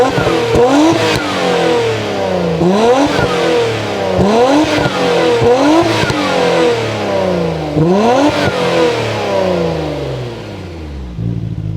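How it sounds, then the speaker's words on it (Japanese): A Nissan RB26DETT engine with a Fujitsubo front pipe, Sard catalytic converter and HKS Super Turbo rear muffler revs repeatedly, each blip rising and falling in a steady series of loud, close throttle sweeps with no voices. "リアマフラーは HKS のスーパーターボマフラーですね"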